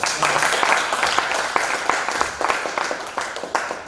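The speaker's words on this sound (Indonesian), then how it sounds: "Tepuk tangan untuk kita semua." An audience at a thesis-defence training session claps together in a brisk, fairly close burst of applause lasting a few seconds, with individual hand strikes audible in the mix.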